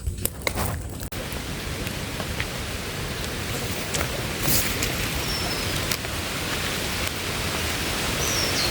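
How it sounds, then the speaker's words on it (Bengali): Rain beginning to pour over a village field on a rainy day, a steady hissing wash of drops that grows slightly heavier, with a few faint knocks near the start. "ভাই আবার বৃষ্টি শুরু হয়ে গেছে,"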